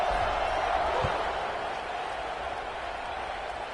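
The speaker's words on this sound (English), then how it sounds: "this crowd is buzzing after that last score" Football stadium crowd buzzing after a score at a Michigan Wolverines game, a steady broad roar of many voices that stays fairly even and distant throughout.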